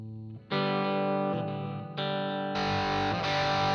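Electric guitar played through a multi-effects unit with distortion and delay, sustained overdriven chords changing every second or so, loud and close with no talking.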